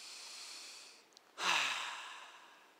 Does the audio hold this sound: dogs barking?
no